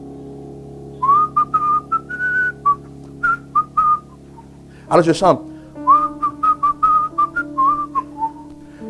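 A man whistles a melody in short tonal phrases, clear and close, with a brief burst of other noise midway and a few spoken words mixed in.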